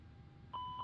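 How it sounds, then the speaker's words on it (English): A single short electronic tone from the cockpit voice recorder test in the Airbus A321neo flight deck of Microsoft Flight Simulator 2024, a clear steady beep that starts abruptly and holds over quiet cabin hum. "CVR test. There's the beep."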